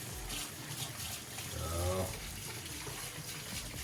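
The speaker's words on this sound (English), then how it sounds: "we have to put some water in the vase" Hand-warm water pours into a flower vase, a short gurgling splash swelling for about half a second midway through a quiet, faintly hissing background.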